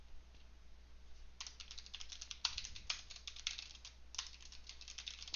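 Fingers tap on a computer keyboard in quick, uneven bursts of close clicks, pausing briefly and resuming, fairly quiet over a low steady hum.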